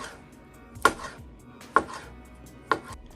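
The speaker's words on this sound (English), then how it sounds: "just cut them in little circles and you'll be good to go" Three sharp, evenly spaced knife chops strike a cutting board as food for Italian sausage egg rolls is sliced into little circles, each a crisp close thud with a short decay.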